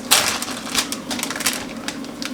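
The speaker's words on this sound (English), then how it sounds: "Sorry if you can hear the air fryer in the background. It's super loud." A steady whirring air fryer fan hum runs throughout, with irregular clicks and clatters of kitchen activity on top.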